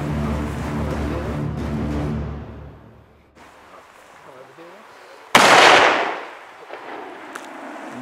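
A single sharp report from a .270 Win hunting rifle fired at a red deer in New Zealand bursts out loud and close after a stretch of talk and quiet, then decays quickly; voices are heard before the shot.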